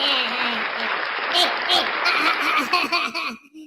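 A small group claps and laughs together, a short burst of clapping mixed with chuckles and voices chattering over it.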